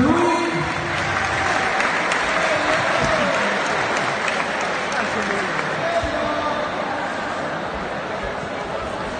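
Audience at a school award ceremony applauds the winner of a school logo contest, a long, steady wash of clapping in a large room, slowly tapering toward the end.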